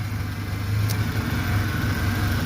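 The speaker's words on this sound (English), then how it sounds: "there's a spark and it pulled the engine down quite a bit" A 1998 Ford Ranger engine idling steadily, then the low rumble dips and labors as the battery is hooked up, with a brief sharp click of a spark; no talking.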